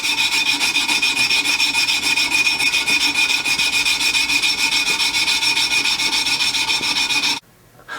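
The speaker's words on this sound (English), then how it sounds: "we're going to start with draw filing" A metal part from a Colt Lightning is draw-filed by hand, a loud, close, steady rasping stroke after stroke with an even rhythm. It stops abruptly near the end.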